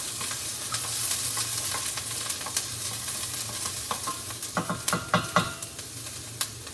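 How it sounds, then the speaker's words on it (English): Spaghetti sauce ingredients are stirred in a pot with oil over high heat: a continuous frying sizzle under repeated scraping strokes that grow sharper and more frequent toward the end. "So I'm just gonna put all this stuff in here. And keep stirring it."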